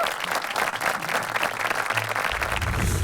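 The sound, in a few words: audience applause at a comedy show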